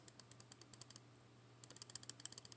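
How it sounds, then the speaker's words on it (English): The rotating bezel of a Seiko SRPC91 Save the Ocean dive watch being turned: two quick runs of crisp, evenly spaced ratchet clicks, faint and very close, with a short pause between them. "I don't know if you can hear that clicking. It's pretty buttery smooth."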